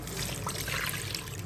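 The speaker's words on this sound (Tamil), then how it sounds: "ஆக்சுவலாக 1 பவுல் தண்ணி ஊற்றுறேன்." A bowl of water is poured for mutton biryani, making a soft, steady trickle that goes on for a moment at low volume.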